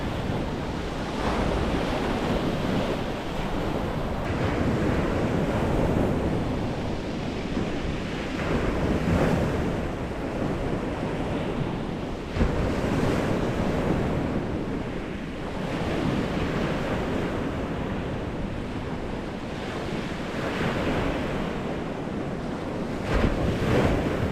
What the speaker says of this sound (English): Just the waves, you know, the noise.